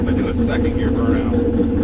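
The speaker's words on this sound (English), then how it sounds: "Second gear burnout." A Shelby GT350 doing a second-gear burnout gives a loud, steady engine roar with a dense low rumble that holds throughout, with no pause or break.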